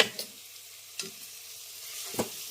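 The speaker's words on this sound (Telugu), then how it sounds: "ఈ టమాటాలు కూడా మెత్తగా మగ్గేదాకా మగ్గించుకుందాం." Tomato and slit green chillies frying in a pan, a soft continuous sizzle broken by three sharp scrape-and-stir accents, near and fairly quiet, nobody talking.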